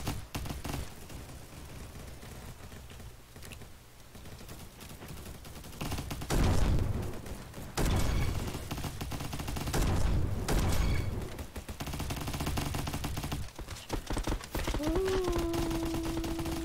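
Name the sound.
gunfire in a shooter video game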